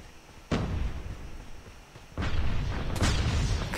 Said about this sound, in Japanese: クラスターボムちょっと自分に当たった